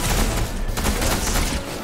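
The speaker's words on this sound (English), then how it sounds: "you're getting shot from behind" Rapid gunfire in the video game Fortnite, a dense fusillade of overlapping shots crackling continuously and fairly loud, with no talk over it.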